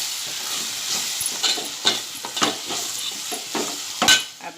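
Green and red masala stirred in a hot pan while cooking masoor pulao, giving a continuous sizzle broken by rhythmic scraping strokes of the spoon, close and fairly loud.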